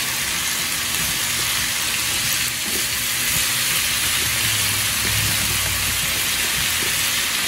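Potatoes fry in a hot skillet with a loud, dense, steady sizzle close up and occasional stirring scrapes, continuing without pause.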